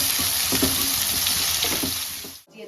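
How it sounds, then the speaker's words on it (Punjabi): Onions frying in a pan give a steady, close, loud sizzle with light stirring scrapes that cuts off abruptly near the end. "ਪਿਆਜ਼ ਭੁੱਜ ਗਏ ਸਾਡੇ ਭੁੱਜਣ ਲੱਗੇ"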